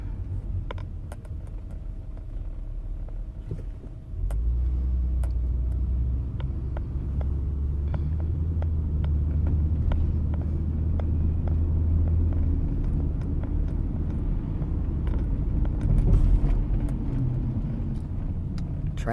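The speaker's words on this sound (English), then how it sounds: "Traffic's horrible." Steady road traffic rumbles past, with cars passing near a roadside where the power infrastructure is in poor repair; a low continuous drone swells after the first few seconds and holds, with no voices over it.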